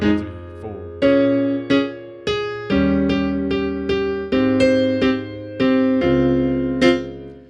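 Piano shell voicings struck on the upbeats to give a swing feel, roughly a dozen chords played one at a time with clear attacks, each ringing briefly before the next, in a bouncy, syncopated pattern.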